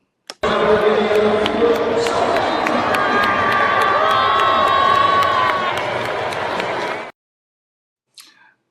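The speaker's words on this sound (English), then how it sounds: "Do you hear that crowd?" Loud arena crowd at an Indiana Pacers basketball game against the Milwaukee Bucks, cheering and roaring steadily for several seconds with whoops and shouts, then cutting off abruptly into silence before a brief faint burst.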